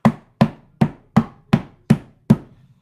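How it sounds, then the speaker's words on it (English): A small hammer with a rubber tip taps Lego bricks seven times in a steady, evenly spaced rhythm, each knock short, close and clear against a quiet background. "So I've actually got this little hammer."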